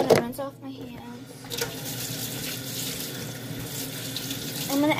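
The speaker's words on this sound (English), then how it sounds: "So now I'm just gonna rinse off my hands." Hands are rinsed under a running kitchen tap, a steady close splash of water with brief clatters near the start.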